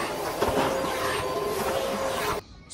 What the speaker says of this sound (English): this vacuum cleaner is going to suck up all the water we use to wash it